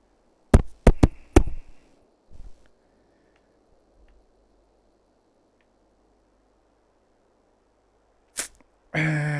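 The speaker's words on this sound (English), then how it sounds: "Let's give Gerald a knock" A door is knocked on in the farming video game Farming Simulator 22, four sharp raps close together, then a fainter thud, a long near-silent pause, and another knock before louder sound starts at the end.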